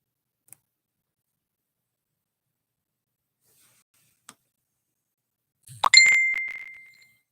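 A single bright phone notification ding rings out close and loud, then decays over about a second after near silence broken by a couple of faint ticks.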